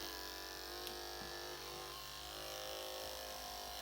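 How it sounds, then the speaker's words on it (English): An electric hair clipper fitted with a number 2 blade runs close by with a steady, even buzzing hum and no talk over it. "make sure that clipper is turned on when we snap it shut"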